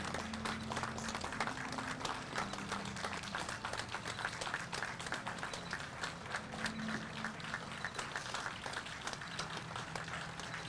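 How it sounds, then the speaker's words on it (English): Steady, distant crowd applause at a 9/11 commemoration ceremony honoring firefighters, a sustained wash of many hands clapping at low level with no talking over it. "I think a round of applause would be very much in order for our firefighters"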